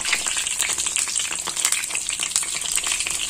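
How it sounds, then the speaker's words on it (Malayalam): Loud, busy sizzling and crackling of beetroot cutlets deep-frying in hot oil, continuous and close. "ഇനി നമുക്ക് വറുത്തെടുക്കാം"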